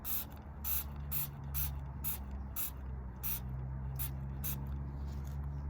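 Short hissing sprays from a spray bottle, about a dozen quick bursts in an uneven rhythm, close by, over a low steady hum.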